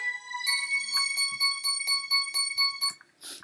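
High, bright bell synth tones plays a repeating pattern of chiming notes with shimmering overtones, layered to support a vocal in a remix, ending with a short airy swish.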